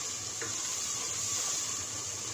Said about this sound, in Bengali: এখন এটা আরো একটু 1 মিনিট নেড়ে চেড়ে ভেজে নেব